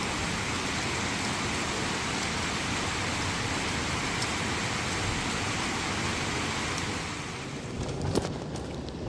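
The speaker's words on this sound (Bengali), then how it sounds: "জোরে জোরে মেঘ ডাকছে বিদ্যুৎ চমকাচ্ছে সাথে বৃষ্টি" Heavy monsoon rain pours down outdoors near green hills and a new bridge over a railway line, making a dense, steady roaring hiss throughout that eases slightly near the end, with no voices.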